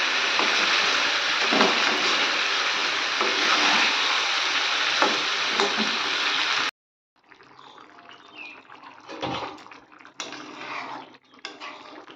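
Chicken, potatoes and capsicum sauté in spiced oil with a steady, dense sizzle. After an abrupt cut, a softer, uneven frying hiss follows with occasional stirring scrapes.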